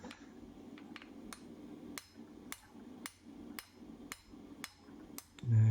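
Hand hammer striking hot steel while forging the taper of a blacksmith's hot set tool, about ten sharp ringing blows at a steady rhythm, each with a bright metallic clang, close and clear with no talking.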